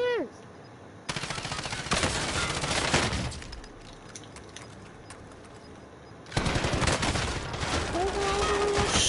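Gunfire in Call of Duty, bursts of rapid automatic fire breaking in and out, loud and dense, separated by a quieter stretch, with a brief tonal game effect near the end.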